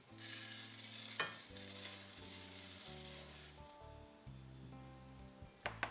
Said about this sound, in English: now that the butter is starting to bubble, I'm going to add the orzo in.